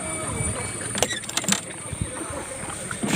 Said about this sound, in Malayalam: വെള്ളം തുഴഞ്ഞ് അക്കരയ്ക്ക് വെക്കുവാണ്